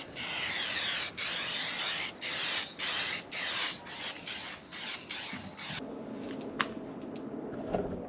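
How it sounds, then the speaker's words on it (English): An aerosol nozzle sprays lacquer onto an alloy wheel in a series of close, hissing bursts with brief gaps, then falls to quieter rustling and a few faint knocks. "hold down the nozzle a little bit longer just to get that nice thick last layer of lacquer"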